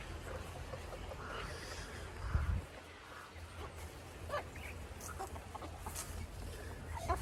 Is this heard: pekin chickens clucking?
yes